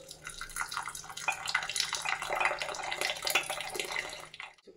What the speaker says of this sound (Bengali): এবার একটু ছেঁকে এর মধ্যে দিয়ে দেবো।